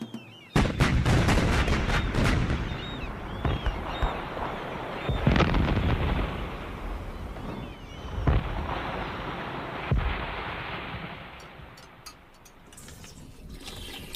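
Naval cannons fire in a rolling series of heavy booms, followed by the deep, sustained roar of a fort's powder magazine exploding, with further blasts echoing over water.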